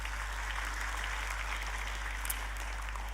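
Sustained applause from a church congregation fills the space at a steady, dense level, with no talk over it.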